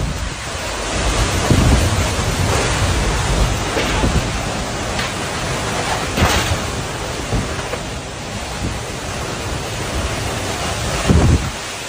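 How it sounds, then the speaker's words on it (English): An intense tornado passing a house in Illinois, heard as a dense, steady roar of heavy wind and rain with scattered thumps and rumbles of thunder, loud and continuous throughout. "a super intense tornado went past this guy's house in Illinois."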